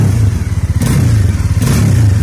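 A Bajaj Dominar 400 motorcycle engine idles with a rapid, pulsing beat and a rattle somewhere in it, loud and close, with two brief bursts of higher noise over the steady thrum.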